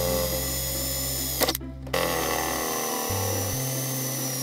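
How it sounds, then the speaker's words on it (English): Power drill boring holes in a RYOBI 40V three-port charger case, a steady whining motor with a brief interruption partway through, then speed shifts as it runs on, loud and close. "I've drilled holes for the wires"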